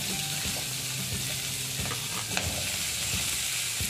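Beans and carrots frying in oil for a mixed vegetable dish, a steady close sizzle with stirring scrapes and occasional spoon clinks, loud and continuous without any voices.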